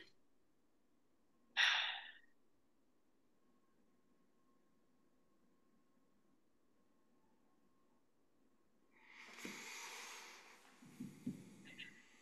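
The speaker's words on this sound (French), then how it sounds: "je vais prendre une grande respiration" A person takes a single long, deep breath through the airway, a soft rushing inhale and exhale that stands out against near silence, with a brief sharp noise earlier.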